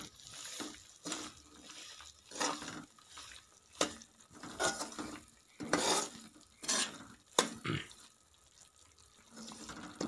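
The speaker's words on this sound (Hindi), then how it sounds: "सूजी डाल के अब इसको भूनना है।" Semolina is roasted in ghee in a pan, with repeated bursts of close stirring and scraping at an uneven rhythm between quieter gaps, and a faint sizzle underneath.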